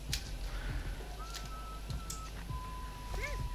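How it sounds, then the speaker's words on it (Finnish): A guard whistles cheerfully in the nighttime island setting of the video game Far Cry 3, a few faint, sustained whistled tones over a low ambient background, without speech. "Tässä on jossain kaveri ainakin viheltelee niin iloisenansa."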